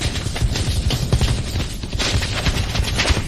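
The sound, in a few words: gunfire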